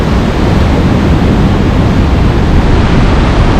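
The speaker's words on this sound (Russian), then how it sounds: "Ветер практически ураганный." Stormy, near-hurricane wind gusting by the sea at Lazarevskoye, a steady, loud, close roar of rushing air and surf with no let-up and no voices.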